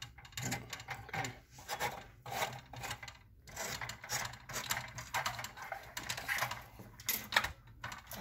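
Light bulbs being screwed back into their sockets on a circuit lab board, giving repeated soft rubbing and gritty scraping twists close by, with no talking.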